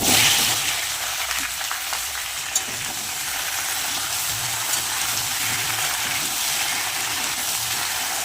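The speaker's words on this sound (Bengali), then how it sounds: "পালং শাকের সবজিটা ভালো করে ভেজে নেব" Spinach frying in oil in a wok, a steady loud sizzle with a single small clatter, continuous for eight seconds without talk.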